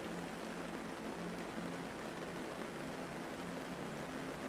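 Steady rain falls outside a tent, a constant soft hiss with a faint low rumble, even and unbroken throughout, with no voices.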